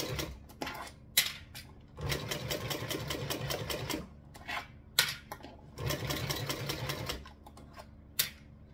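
A sewing machine stitching a handmade trifold wallet at a slow pace, its needle rattling in several bursts separated by short pauses and single clicks.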